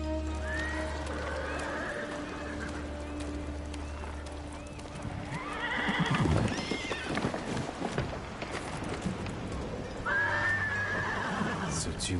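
A horse in Ghost of Tsushima neighs and whinnies several times between clip-clopping hooves, close and clear over a low ambient rumble, with spoken dialogue in the scene.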